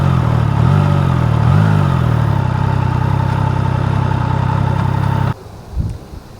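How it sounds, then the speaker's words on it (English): A Triumph Tiger 660 motorcycle engine idling loudly and close, with two quick throttle blips early on, then the engine cuts out, leaving a faint mechanical clatter. "So it makes it a little bit hard to blip the throttle."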